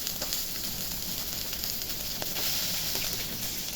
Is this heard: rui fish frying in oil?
yes